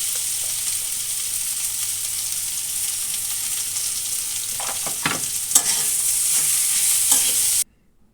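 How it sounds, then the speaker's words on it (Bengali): Sliced onions with salt and green chilies stirred and fried in a pan, a steady close sizzle with scraping stir strokes growing busier toward the end, no talking. "লবণটা ভালোভাবে পেঁয়াজের সাথে মিশিয়ে নিলাম।"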